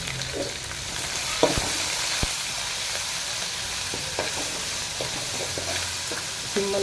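Curry leaves, asafoetida and green chilies fry in hot oil for North Karnataka–style girmit, producing a steady close hissing sizzle with a few sharp crackles and spoon taps, no voices.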